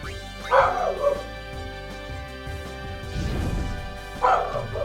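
A puppy in the game Final Fantasy IX gives a few short yipping barks in separate bursts, one early, a brief whimper in the middle and another near the end, over quiet game background.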